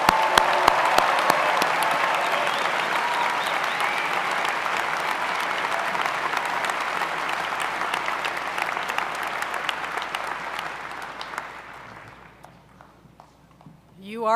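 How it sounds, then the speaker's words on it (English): A large crowd at the 2022 Southern Utah University commencement ceremony gives graduates a long round of applause, loud and steady in a big venue, then thinning and fading toward the end. "please join me in giving all of the graduates one more round of applause"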